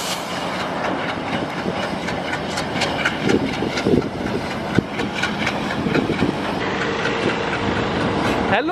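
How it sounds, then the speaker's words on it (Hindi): A train pulls in along a railway line in South India near Pamban and Rameshwaram, its steady rumble and clickety-clack of wheels on rails loud and close throughout, with a single sharp clank partway through. "सीरियसली ट्रेन आ गई"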